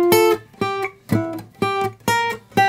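Electric guitar playing the chromatic walk-up from the interlude of a song, a string of about six sustained, evenly spaced single notes climbing by step, played close and clear with no talk.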